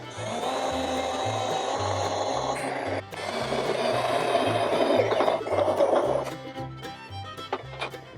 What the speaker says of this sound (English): I'm going to drill the hole dead center right there